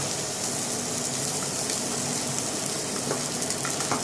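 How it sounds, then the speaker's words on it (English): Brandy flames off in a coq au vin pan that already holds marinade, making a steady, loud rushing hiss with faint crackles throughout, and no one speaks. "what we have here is the alcohol burning off"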